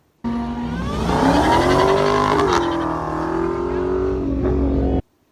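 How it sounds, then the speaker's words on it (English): A powerful car engine roars steadily at high revs, its deep growl rising and falling briefly before cutting off abruptly. "V8s roar."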